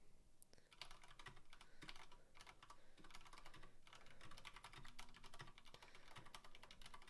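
Steady, rapid clicking of keys on a computer keyboard, continuous and close, with no voices.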